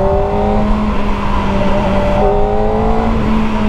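Kawasaki ZX4RR motorcycle engine accelerating hard with a loud, steady, high-pitched inline-four howl that climbs in pitch, then shifts and climbs again, heard close up.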